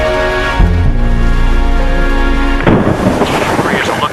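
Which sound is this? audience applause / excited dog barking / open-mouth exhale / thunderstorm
thunderstorm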